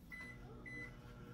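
A low, steady hum from a 1,000-watt microwave oven heating a frozen TV dinner drones throughout, with a faint high tone sounding twice above it; no one speaks.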